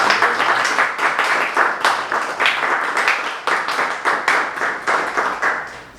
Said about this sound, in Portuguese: Salva de palmas para toda a equipe que participou do Limbo.